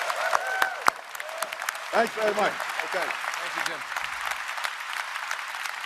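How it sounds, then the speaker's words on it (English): An audience applauds the Prime Minister at a political event, a broad patter of clapping rising and then continuing as someone speaks briefly over it. "let's give the Prime Minister a big round of applause"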